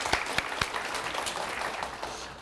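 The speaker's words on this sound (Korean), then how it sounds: "우리 하나님께 감사의 박수를 드리겠습니다." A church congregation claps in thanks during a Sunday service, a brief burst of dense applause with a few sharp individual claps standing out near the start.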